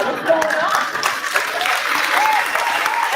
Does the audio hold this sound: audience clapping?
yes